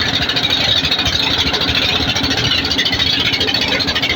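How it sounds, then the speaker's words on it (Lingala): A dakadaka motorboat engine running steadily, a loud continuous rough mechanical drone without talk. "kombo ya dakadaka euta son ya moteur nango soki eza kotambola esalaka kaka dakadaka"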